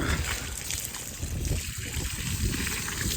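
Water is splashed onto a vehicle during a wash in a village, producing a steady hissing spray and trickle, fairly quiet and continuous over a few seconds.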